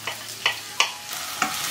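Onion and carrot are stir-fried in hot oil in a wok: a constant close sizzle with four sharp scraping strokes of the spatula, no speech.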